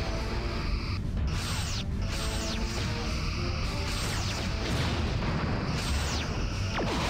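Starship weapons fire in a Star Trek battle game, Nova class against Sabre class, giving dense, loud mechanical blasts and booming impacts with descending sweeps over a constant rumbling background.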